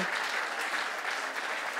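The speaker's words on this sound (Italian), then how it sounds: "lo facciamo un applauso per tutte le modelle" Steady, dense applause from an audience at a fashion show, honoring the models, loud and continuous throughout with no pauses.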